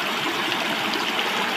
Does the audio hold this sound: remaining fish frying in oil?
no